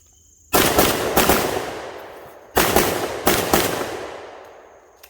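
A tuned 2011-style competition pistol fired at targets outdoors, four loud cracks in two quick pairs with ringing echo trailing after each, no voices.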